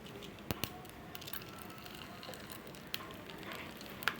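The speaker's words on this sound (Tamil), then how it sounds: "கடுகு உளுந்தும் பொரிஞ்சதுக்கும் கொஞ்சோண்டு கருவேப்பிலை மட்டும் போட்டால் போதுங்க" Mustard seeds, urad dal and curry leaves sizzle softly in hot oil for a South Indian tempering, a faint steady fry broken by a few sharp pops and crackles.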